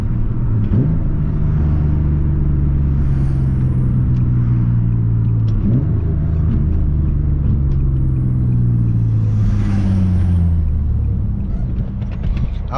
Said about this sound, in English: check out some downshifts.